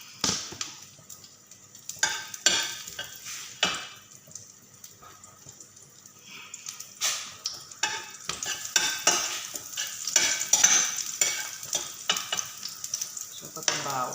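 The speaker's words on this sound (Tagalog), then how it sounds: "Ayan, lagay ko na ito sibuyas muna." Onion dropped into hot oil for garlic fried rice, sizzling and crackling steadily while a utensil scrapes and clinks against the pan in irregular strokes, close and lively, no talking.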